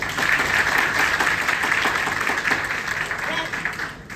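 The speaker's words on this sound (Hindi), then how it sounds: "तालियां तो बनती है यार, तालियां" A theatre audience applauds a stage play in steady, full clapping that holds for several seconds and then starts to fade at the end.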